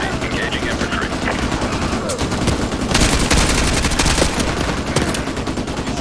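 Dense, continuous gunfire in the first-person shooter Call of Duty: Modern Warfare 2 during a suburban neighborhood firefight, with loud overlapping automatic bursts and sharper shots rising partway through.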